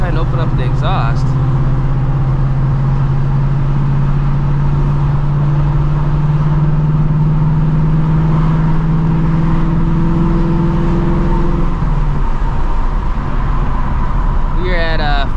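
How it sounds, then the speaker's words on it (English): A 2024 Ford Mustang GT V8 with its exhaust valves opened, a loud droning engine note that climbs steadily in pitch and then drops off, with road noise and a voice talking near the start and end. "let's go ahead and open up the exhaust."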